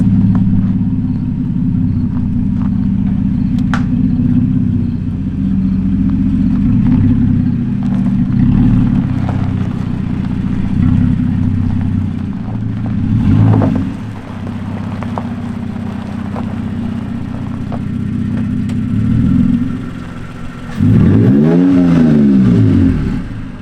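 Straight-piped Toyota Tacoma V6 revs loudly with a deep, steady rumble, its pitch rising and falling through several throttle blips and ending in a sharp swelling rev near the end.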